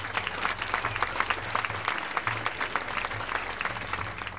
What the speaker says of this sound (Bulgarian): Аплодисментите ви са за страната домакин!